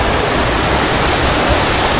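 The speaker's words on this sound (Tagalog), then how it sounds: "Dito medyo malapit-lapit tayo. Ito yung falls." Waterfall at Twin Falls in Kalayaan, Laguna, heard from close by as a loud, dense, unbroken roar of rushing water with no other sounds.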